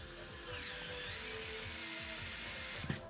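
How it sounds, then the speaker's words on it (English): A power screwdriver drives screws into a PC build, a rising motor whine that holds for a couple of seconds before stopping with a small click, close and moderately loud. "we almost got all the screws in."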